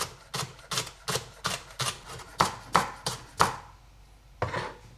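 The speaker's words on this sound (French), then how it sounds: "je coupe au centre comme ça et ensuite je hache à nouveau" A knife chops spring onion on a cutting board in a quick, even run of about a dozen crisp, close taps, then pauses before one last chop, with no voices.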